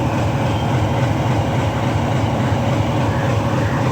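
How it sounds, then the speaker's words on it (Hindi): The Somnath train at Visavadar railway station produces a continuous, loud, close rumble with a dense, steady roar of wheels and engine that does not let up. "तो मित्रों आ सोमनाथ की ट्रेन आई है"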